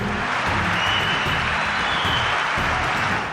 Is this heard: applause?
yes